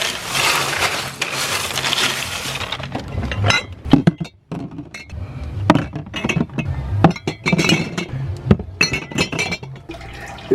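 Glass and metal kitchenware clinking and clattering in a home kitchen, a dense washing rattle at first, then scattered sharp clinks and knocks at close range, with ice being handled.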